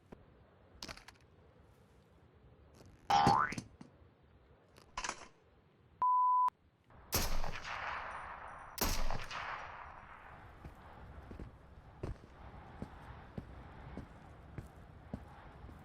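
Sniper rifle gunfire in the VR survival shooter Into The Radius: several sharp, loud cracks with decaying echoes, mixed with a short electronic beep, footsteps and quieter ambient game sounds.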